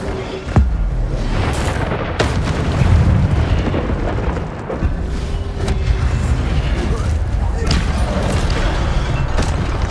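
Incendio fire spell blasts in the video game Hogwarts Legacy, several booming bursts over a constant loud rumble of game sound, with a voice calling out spells.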